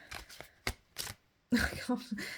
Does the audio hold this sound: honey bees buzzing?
no